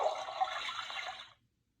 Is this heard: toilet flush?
yes